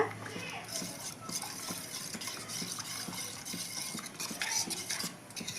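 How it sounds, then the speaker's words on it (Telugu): Ragi flour being stirred into water in a bowl, with a steady run of soft scraping and sloshing stirs that continue throughout, close and moderately loud, with faint household background noise. "ఇట్లా కలుపు కలపాలండి పిండి బాగా మొత్తం నీళ్ళలో కలిసేట్లుగా"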